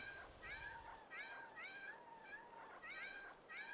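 Cats meow repeatedly in a video game, several rising-and-falling calls in a loose rhythm over a faint background, with no talking.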